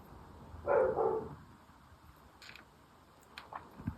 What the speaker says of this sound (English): My dog is barking at someone in the driveway.